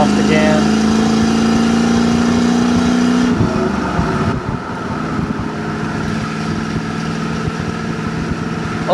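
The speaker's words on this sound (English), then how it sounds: "Let y'all hear the exhaust again." A 1967 Chevrolet Camaro RS/SS with a 350 V8 and four-speed rumbles along, its engine note rising steadily as it revs. The tone then drops into a lower, rougher exhaust burble as the car eases off, loud and close throughout.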